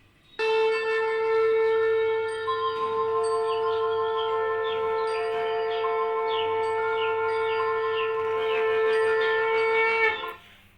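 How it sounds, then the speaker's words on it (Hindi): A conch shell blown in one long, steady, bright blast with rich harmonics, held for about ten seconds at close range, loud and alone with no talk. "शंख की ध्वनि"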